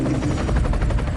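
A helicopter in flight over the Angkor Wat area in Cambodia gives a loud, steady rumbling roar with a faint rhythmic rotor pulse, continuous and close throughout, with no talking.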